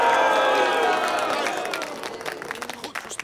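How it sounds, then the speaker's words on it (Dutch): A crowd cheers and claps for the birth of a Dutch royal child, with a voice speaking over the opening moments before scattered claps and shouts carry on at a moderate distance. "Het volk juicht tegen beter weten in."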